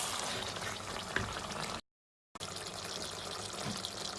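Marinated chicken for achar gosht simmers covered in a pot, giving a steady close bubbling and sizzling hiss, broken by a brief silent gap, with no voices.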